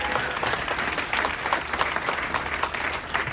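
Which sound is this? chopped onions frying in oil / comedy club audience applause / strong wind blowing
comedy club audience applause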